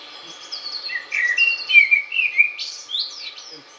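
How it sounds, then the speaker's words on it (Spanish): A blackbird sings outdoors in Montejo de la Sierra, a continuous flowing run of fluting, whistled phrases, fairly close and clear, alone over a quiet rural background. "a este que es un mirlo cantando en Montejo de la Sierra."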